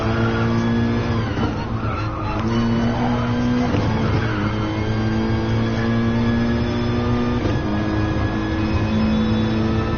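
A Mercedes AMG GT racing in the GT Sport video game, its engine a loud steady drone that climbs in pitch through the gears and dips at each shift, with some tyre scrub under it.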